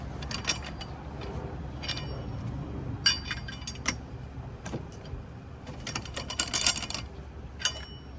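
Metallic clinks, ratchety clicks and clunks of tools on a car wheel being pulled off, sporadic and near against a low hum of background noise.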